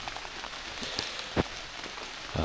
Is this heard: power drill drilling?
no